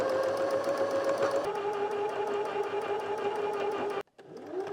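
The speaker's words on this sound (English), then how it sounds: "I'm just stitching my corners together so I can have a nice continuation of my design around the edge of the headboard" A sewing machine stitches headboard fabric corners together, a fast steady mechanical whirr of the needle running close and alone, dropping in pitch partway through and briefly stopping before starting up again.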